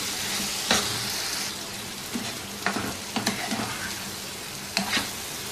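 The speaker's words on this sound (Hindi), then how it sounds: "अब इसके अंदर ये बटर शामिल कर देंगे, बहुत ही रिच और क्रीमी ग्रेवी बनेगी इसकी।" Butter being stirred into a rich, creamy paneer chicken handi gravy, with a steady sizzle and several light spoon scrapes and knocks against the pot.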